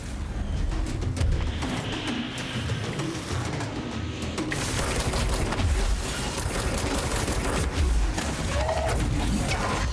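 Rapid gunfire from enemy snipers and other weapons in the video game Control, loud clustered bursts and crashing impacts that swell in the second half over a dense, steady combat din.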